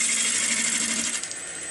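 A wood-turning gouge cuts into a spinning ball bat on a lathe, producing a loud, continuous hissing scrape with a steady tonal hum that eases slightly toward the end.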